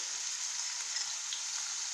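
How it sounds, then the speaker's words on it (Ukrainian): Food sizzles and crackles steadily in a hot frying pan, a constant bright hiss heard close up with no voices. "все кипить, все шкварчить"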